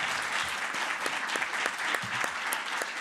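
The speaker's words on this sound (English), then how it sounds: "a round of applause for our panelists" An audience claps steadily, a dense patter of many hands applauding with a few sharper individual claps standing out.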